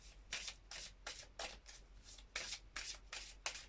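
Oracle guide cards are shuffled by hand at close range, making a quick series of about ten soft riffling swishes in a steady rhythm, faint and with no talking.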